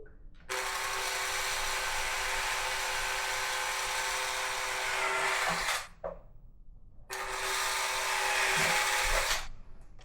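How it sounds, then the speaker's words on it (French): A power drill bores two 4 mm holes through a plate support bracket being fitted for rivets, two loud sustained whines of about five and two and a half seconds separated by a short pause, close and alone. "On vient percer 2 trous."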